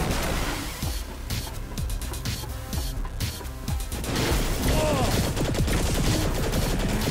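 Several booming cannon shots go off in quick succession amid chaotic action in the video game Saints Row: The Third Remastered, with crashing and splashing effects and no speech.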